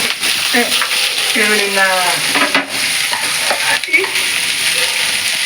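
Onion and tomato frying in a pan for chicken, a loud continuous sizzle with stirring, while faint voices talk in the background.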